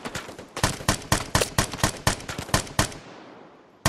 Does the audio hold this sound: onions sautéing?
no